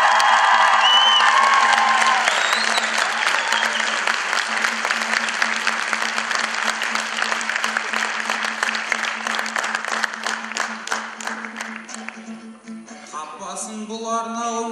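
An event audience gives loud, sustained applause with some cheering and whoops mixed in. The clapping turns more rhythmic and unified in the middle stretch, then tapers off as a voice starts speaking near the end.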